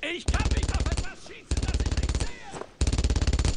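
Enemy machine gun in Brothers in Arms: Road to Hill 30 rattles in three loud, rapid bursts of evenly spaced shots, close and dominant, with brief pauses between bursts and some faint background battle noise.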